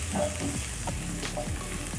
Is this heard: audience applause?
no